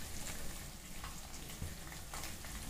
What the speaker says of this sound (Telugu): ఇవి బాగా వేయించాలండి